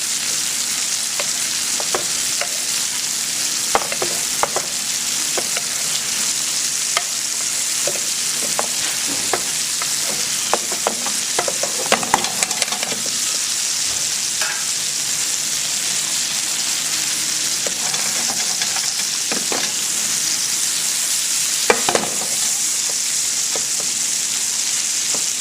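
Sole meunière fries in a pan while being basted, giving a continuous crackling sizzle with small pops and occasional clinks of a spoon against the pan.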